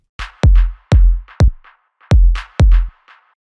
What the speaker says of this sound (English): This clap has delay on it and it's filtered